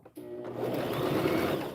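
A sewing machine stitches fleece for a pom-pom hat, its motor starting abruptly after a short pause and then running in a steady, close, even whir.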